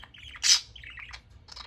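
Pet budgerigar parakeet chirping indoors: a few quick, bright tweets and warbles close by, with one louder squawk in the middle, heard alone without talk.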